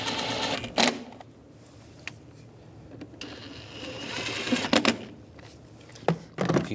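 Spark plugs are tightened by hand on a 2001-2006 BMW 325xi, with a steady ratcheting whir under a faint high whine, broken by a few sharp metallic clicks and clunks near the end.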